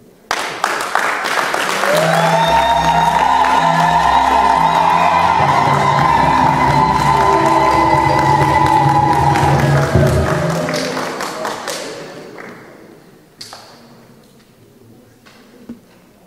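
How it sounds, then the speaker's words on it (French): Wedding guests at a religious ceremony burst into loud, sustained applause and cheering after the exchange of rings, with whoops and shouts over steady clapping for about ten seconds before it fades out. "Applaudissez."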